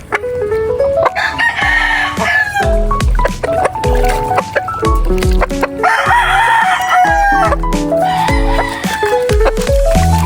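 Pet gamefowl roosters crow and cluck while being bathed; loud, repeated crows ring out close by over continuous clucking, with hardly any talk.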